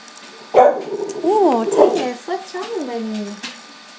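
An old, grumpy dog lets out a few sharp barks followed by whining, moaning vocalizations, close and loud, with short pauses between the sounds.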